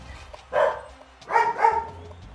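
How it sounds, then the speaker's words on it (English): Dogs barking in a couple of short bursts, a first bark then a doubled one, fairly close and loud over a low background hum. "Dogs love to bark."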